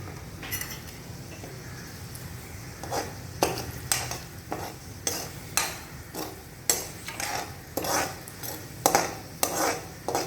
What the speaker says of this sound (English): Add sabudana and cook for 4 minutes.